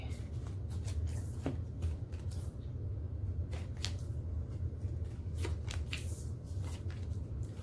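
Tarot cards shuffled by hand at close range, a continuous soft riffling with repeated sharp flicks and snaps, no talking.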